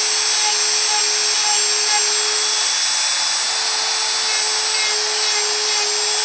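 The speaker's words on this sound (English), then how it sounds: "just keep hollowing the foam out as you go" A power tool sanding and hollowing out foam armor, a loud continuous high-pitched whine with steady tonal hum, unbroken throughout and heard alone without talk.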